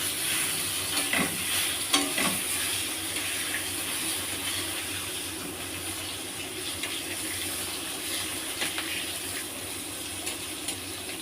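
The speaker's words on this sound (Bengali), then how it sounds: "এই তেলেই আমি বেগুনটা ভেজে নিচ্ছি।" Eggplant frying in hot oil in a pan with a pinch of nigella seeds, a steady broad sizzle running throughout at moderate level, with a few faint clinks and stirs near the start.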